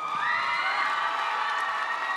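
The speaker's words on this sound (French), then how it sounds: "Vous pouvez l'applaudir." Audience cheering and whooping for a contestant at a finalist competition, a bright continuous crowd roar with shouts, loud and sustained throughout with no speech.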